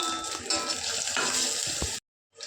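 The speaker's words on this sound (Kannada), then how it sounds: "ಕೊಬ್ಬರಿ ಎಲ್ಲ ನಮಗೆ ಬ್ರೌನ್ ಕಲರ್ ಆಗಿ ಬರಬೇಕು ಸೊ ಅಲ್ಲಿವರೆಗೂ ಫ್ರೈ ಮಾಡ್ಕೊಳ್ಳೋಣ" Grated coconut frying in a pan with garlic and coriander, a continuous close sizzle with a few stirring scrapes, cutting off abruptly near the end.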